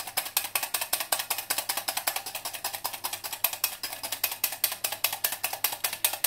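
Rapid, steady rhythmic scraping of a whisk against a bowl while beating dalgona coffee by hand, loud and close, with no talking.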